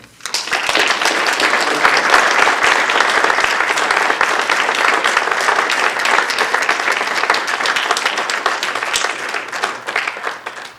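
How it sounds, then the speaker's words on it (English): Sustained applause from a forum audience for an entire panel discussing U.S.-China relations, dense steady clapping that fills the room at close range, then tails off slightly at the end. "Please join me in another round of applause for the entire panel."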